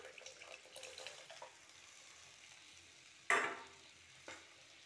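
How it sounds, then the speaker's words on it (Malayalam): Tamarind water is poured into a hot pan while making puli inji, a ginger-tamarind relish: a quiet kitchen background, then one sudden sharp splash and hiss, followed a second later by a smaller second splash. "ഇനി അതിലേക്ക് നമുക്ക് ഈ പുളി കലക്കി വെച്ചത് ഒഴിച്ചു കൊടുക്കാം"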